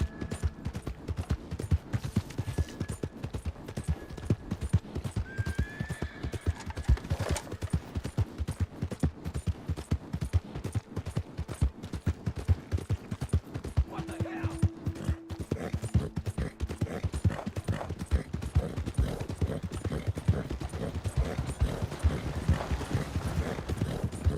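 Hooves clip-clop steadily as a horse is ridden at speed in Red Dead Redemption 2, a fast even rhythm running the whole time with faint game sounds behind it.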